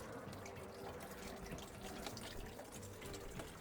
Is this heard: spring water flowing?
yes